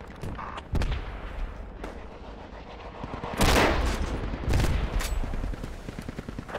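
Warning shots fired in a video game, with scattered single gunshots and heavier bursts of fire rising midway, loud and near, with no talking over them.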